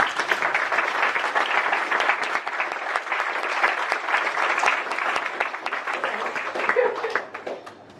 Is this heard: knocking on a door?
no